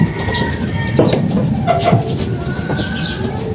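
Racing pigeons arriving home after a 25 km club training toss, cooing nearby in soft, repeated low calls over a steady outdoor background, with no speech.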